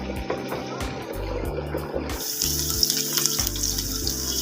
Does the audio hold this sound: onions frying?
yes